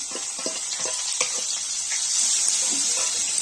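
Onion sizzles steadily in hot oil tempered with whole cumin, dried red chillies and bay leaf for a chana paneer masala, a dense close hiss broken by soft stirring clicks, with no voices.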